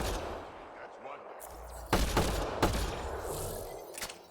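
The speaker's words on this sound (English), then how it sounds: "What was it that immediately shot us?" Enemy gunfire in Mass Effect Andromeda, a few sharp impacts and shots landing amid game ambience, with two loud bursts standing out, while a player talks over them.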